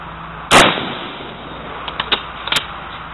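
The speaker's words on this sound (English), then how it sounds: "Oh, this is how she shot with 13 shots." A Finnish-marked Tula 1936 M91/30 Mosin-Nagant rifle fires one loud, sharp shot outdoors, with a decaying tail and a few softer clicks of the bolt being worked afterward.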